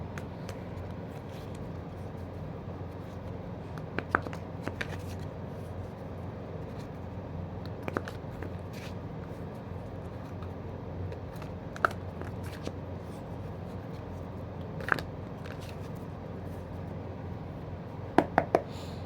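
Tarot card deck being shuffled during a reading, soft steady riffling and rustling close by with occasional light taps, no talk heard.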